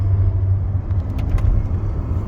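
Citroën BX GTI engine rumbling steadily while driving, a low continuous drone with faint road noise and no talk.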